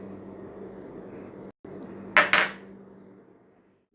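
A spoon stirs BBQ-style chicken karahi with coriander and green chillies in a pan, giving two quick metallic clanks against the pan over a low, steady background hiss that then fades away.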